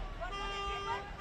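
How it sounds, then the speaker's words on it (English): Car horn honking during a Fourth of July parade, a short blaring toot over crowd noise and a nearby engine, heard close and loud. "That's some good honking right there."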